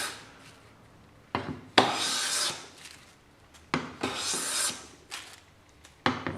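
Hand plane fitted with a Hock blade shaving wood, giving three broad rasping strokes, each a long hissing scrape with a sharp start, close and clear with no talk.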